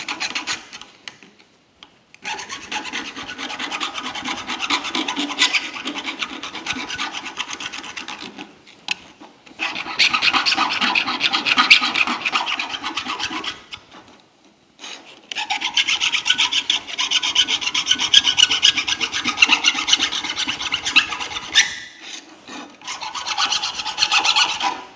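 A Leatherman multi-tool file rasps against a small burr in repeated close-up bursts of scraping strokes, each run lasting several seconds, separated by short silent pauses, with no talking.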